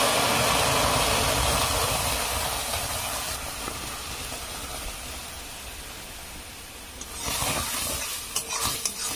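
Palm fruit pulp being stirred in a hot kadai, a continuous loud hissing sizzle with scraping that gradually softens, then brief clatters of the spatula near the end, no talking.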